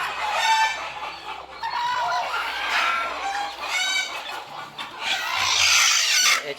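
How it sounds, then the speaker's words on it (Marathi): Several desi country hens with chicks cluck and call repeatedly at close range, their overlapping cackles forming a busy, continuous barnyard chatter with no talking. "बघा अशा आपण बसवलेत कोंबड्या याच्यामध्ये पिल्लं आले"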